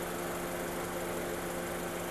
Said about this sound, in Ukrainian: Двигун працює рівно